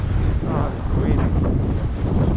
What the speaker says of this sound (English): Oh, it's wind.